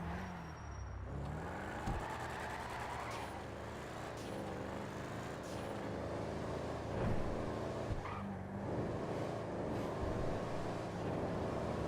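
A deep video-game car engine, a Benny's Sabre, rumbles steadily from inside the cabin, rising and falling with revs, continuous and fairly loud throughout.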